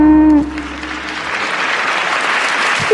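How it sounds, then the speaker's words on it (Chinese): An audience applauds after a livestreamed singing performance, with steady, moderately loud clapping following a brief sung note at the start. "谢谢掌声"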